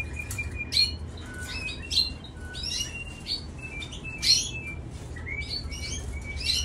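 A male canary kept in a home cage sings a lively string of bright chirps, trills and sharp whistles in quick, uneven bursts, close by and steady over a low background hum.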